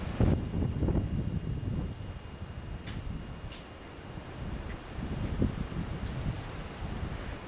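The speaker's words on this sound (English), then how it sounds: "Wind's blowing like crazy." Strong gusty wind buffets the microphone outdoors during assembly of a model aircraft's wings, a loud continuous roaring rumble that swells and eases.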